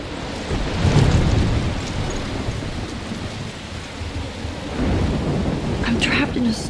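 A thunderstorm in the video game Life is Strange: heavy rain pours continuously while rumbling thunder swells near the start and again later, loud and close.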